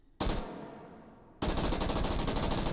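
A submachine gun fires in full-auto bursts at close range, one loud burst that decays and then a second sustained, dense rattle of rapid shots.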